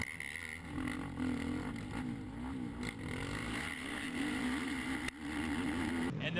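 ATV engines race on a wooded motocross track during a GNCC event at Loretta Lynn's, a steady, droning, wavering motor roar that swells and dips continuously, heard at a moderate distance for several seconds.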